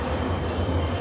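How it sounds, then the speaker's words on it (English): A train in Fukuoka, Japan, gives a steady, loud low rumble and rolling roar, continuous throughout with no talk. "right now we're about to get on the train"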